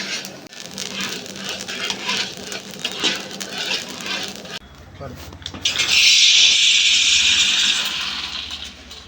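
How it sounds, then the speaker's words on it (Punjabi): Flaxseed roasts in a wok, crackling and hissing in a steady, close patter that swells midway and continues under a person talking. "ਜਦੋਂ ਪੂਰੀ ਭੁੱਜ ਗਈ ਤਾਂ ਇਹਨੇ ਤੜ ਤੜ ਦੀ ਆਵਾਜ਼ ਕਰਨੀ"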